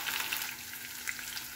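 Fish fillets fry in a pan with a steady, close hiss of sizzling oil and a few small pops, with no voices over it.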